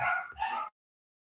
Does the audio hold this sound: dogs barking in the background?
yes